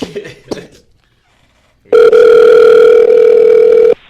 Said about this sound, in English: Yeah, I'm about to call him right now.